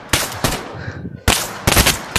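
Gunfire in the VR game Gorilla Tag: three loud, harsh bursts of shots, separated by short gaps of quieter background noise.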